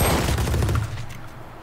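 Loud, dense gunfire rattles through a Valorant tournament match, with overlapping shots for most of a second before the volume drops and the firing trails off into a quieter tail.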